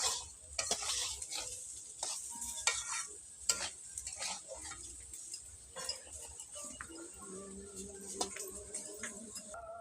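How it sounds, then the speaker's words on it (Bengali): Lentils frying in a pan for khichuri, with a steady soft sizzle and scattered scraping stirs and light ticks of the spoon against the pan, fairly quiet and close, without voices. "ডালটা ভেজে নিয়েছি"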